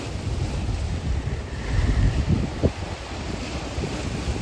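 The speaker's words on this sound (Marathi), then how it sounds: "हे बघा खडकावून आदळतंय पाणी." Sea waves crash against the rocks at Sindhudurg fort on a windy midday, a steady loud roar of surf and gusting wind buffeting the microphone, with no voices.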